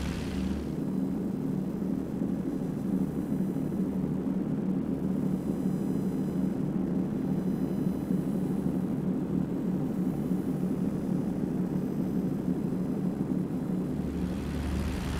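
Steady, continuous drone of a WWI aircraft engine in the IL-2 Flying Circus video game, holding a dense low rumble throughout with no voices over it.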